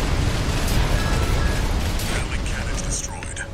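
Missile explosions in Armored Core 6, a dense continuous roar of blasts and mechanical rumble with crackling bursts, loud and sustained, a voice talking over it.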